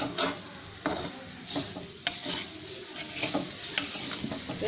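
Cluster beans fry in a pan, with a soft, steady sizzle broken by repeated scraping stir strokes at an irregular rhythm, heard close up and without talk.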